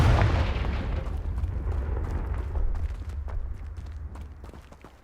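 A Confringo fire spell explodes in Hogwarts Legacy on Xbox Series X, opening with a loud, heavy boom that rumbles and crackles as it slowly fades over several seconds.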